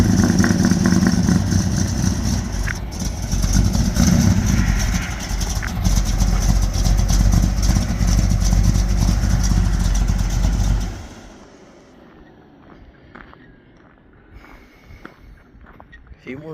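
An old pickup truck engine runs loud and rough with a steady rumble and some revving for about eleven seconds, then cuts off abruptly and leaves quiet background with faint sounds.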